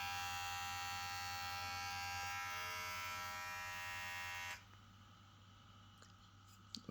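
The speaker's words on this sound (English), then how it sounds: "This trimmer got also 2 speed." A PRITECH PR 2593C hair trimmer runs at its second speed with a steady, dense electric buzz that cuts off abruptly partway through, leaving quiet room noise and a few small clicks.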